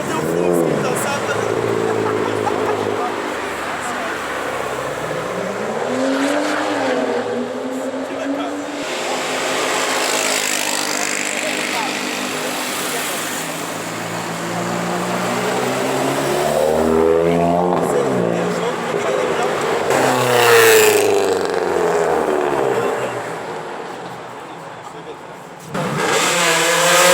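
A Hyundai HB20 with a loud exhaust revs repeatedly, its engine note rising and falling in long sweeps, close and loud. Other engine sounds and people's voices are mixed in.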